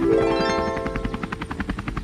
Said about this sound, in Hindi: अब वह हेलीकॉप्टर बाढ़ पीड़ितों की मदद के लिए अनाज फेंक रहा है।